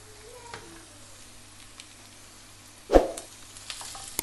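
Onion and spices for a Goan king mackerel fish curry fry softly in a pan with a low steady sizzle, broken by one louder scraping stir near the end; no one speaks.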